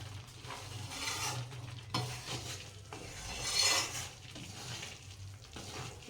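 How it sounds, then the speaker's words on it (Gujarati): Flour roasting in ghee in a kadai for adadiya pak, stirred steadily with a soft continuous sizzle and repeated scraping strokes, close and fairly quiet, with no voices. "જો હવે આપણો લોટ શેકાવા માંડ્યો. હવે ઘી છૂટું પડ્યું."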